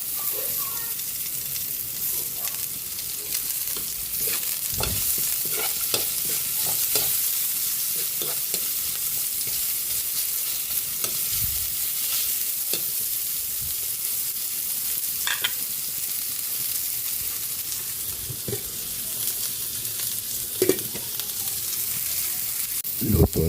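Ginger, garlic and onion sauté in a pan, a continuous close sizzle broken by scraping stirs and occasional clatters of the utensil against the pan, with no talking.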